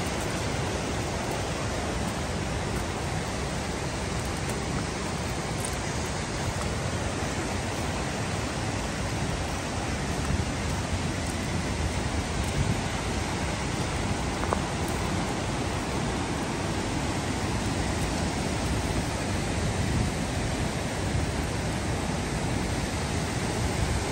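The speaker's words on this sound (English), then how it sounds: "That's a pretty good waterfall." Fishhawk Falls waterfall on a Pacific Northwest forest trail, a steady broadband roar of falling water heard alone, with no talking.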